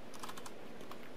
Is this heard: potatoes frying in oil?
no